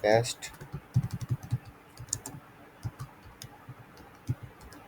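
Fast, uneven clicks from a computer keyboard as ad copy is typed, close and fairly soft, with brief bursts of keystrokes and pauses between them and a voice at the very start.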